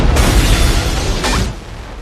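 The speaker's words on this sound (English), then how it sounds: "Oh man, nice explosion by the way." A large explosion from the 2002 James Bond film Die Another Day booms loudly, with a deep rumbling blast followed by a second burst, fading into lower rumble.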